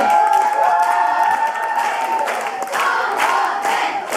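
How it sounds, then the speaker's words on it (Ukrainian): An audience at a children's entertainment program applauds and cheers for a team, with crowd noise and raised voices blending into bursts of clapping, fairly loud. "Оплески команді Москві."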